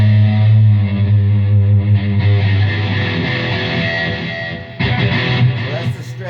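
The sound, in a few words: electric guitar, dirty tone on treble pickup, with effects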